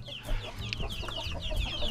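A young chicken loose outside its run clucks and chirps steadily and fairly close, with no voices over it.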